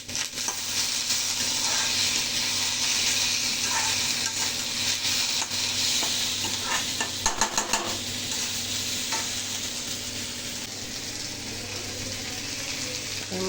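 Tomato and green chilli stirred into onions browning in a wok for brinjal bharta, a steady loud sizzle with scraping stir strokes running throughout, no talk.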